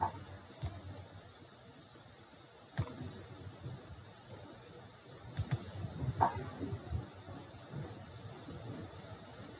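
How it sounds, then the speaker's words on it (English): Keys on a computer keyboard are tapped to enter a numeric character code, a few faint, sparse clicks and taps spaced apart over a quiet room background. "type this character code"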